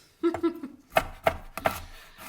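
Fresh ginger chopped with a kitchen knife on a board, with a few quick soft knocks and then three sharp, evenly spaced chops close up, and no talking.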